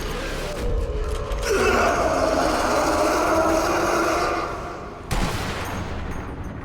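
Sniper rifle fire in the video game Sniper Elite: Nazi Zombie Army: a loud sustained rumbling blast with a long roaring tail, then a second sharp crack near the end, all fairly close and without speech.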